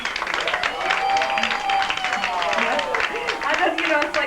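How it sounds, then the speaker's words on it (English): An audience applauds the final act of the night at an orchid show, a sustained patter of clapping with crowd murmur and a voice speaking over it. "let's have a big fat warm round of applause for the last act of the night"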